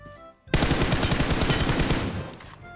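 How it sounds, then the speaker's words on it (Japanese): A rapid burst of automatic gunfire in the video game PUBG Mobile rattles loudly for about two seconds after a brief quieter moment, then cuts off. "後ろがね、銃声になってるんですよ。"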